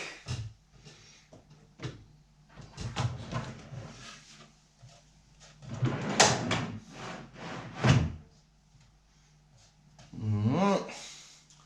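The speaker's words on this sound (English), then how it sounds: "This is the middle drawer coming back." A middle drawer of a handmade wooden desk slides back into its carcass with a few rubbing, knocking strokes, moderately close, as someone speaks intermittently over it.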